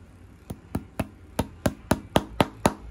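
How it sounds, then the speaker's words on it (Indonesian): Nine sharp hammer blows in an even, slightly quickening rhythm, close and distinct, as nails are driven to fix hair onto a carved wooden Kentong Suro Ganong mask. "Pasangnya dipaku."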